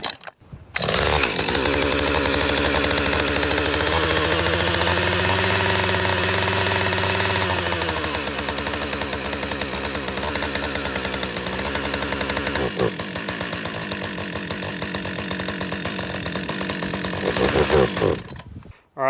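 A Husqvarna 562XP chainsaw engine, choked, roars at high revs for most of the stretch, the pitch dipping and wavering midway before cutting off abruptly near the end.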